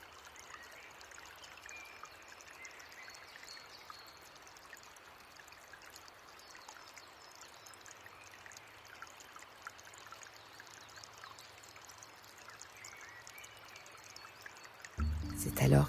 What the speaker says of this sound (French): Ce ruisseau qui coule tranquillement au milieu des herbes